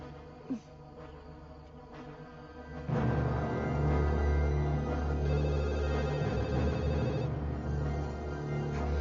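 Telephone ringing unanswered, a repeated electronic trill that starts faintly and then swells louder after a few seconds, continuing steadily under low background hum.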